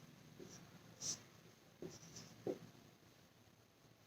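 A few soft, brief scratches and taps of a teacher writing words on a board during a Hindi class, faint and sparse against a quiet room.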